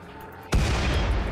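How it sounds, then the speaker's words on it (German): A single sharp video game gunshot in Rimworld bursts out after a quiet moment, followed by a dense, loud rumble of continuing fire and noise. "Schuss."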